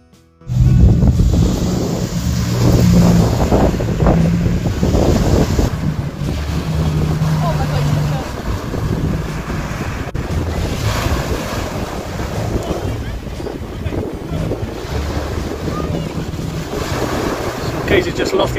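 Strong wind and crashing sea surf roar continuously at a shore where a car floats in the sea, loud and close with heavy wind buffeting the microphone throughout.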